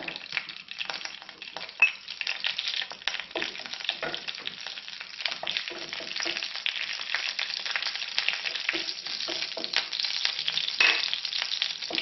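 Dried red chillies and curry leaves crackle in hot oil for a Kerala bitter gourd yogurt kichadi, a steady close sizzle with scattered pops and no talking.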